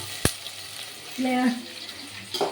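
Onions frying in oil in a pan for egg biryani, cooked until deep golden red, give off a steady soft sizzle with a sharp click near the start and brief voices over it.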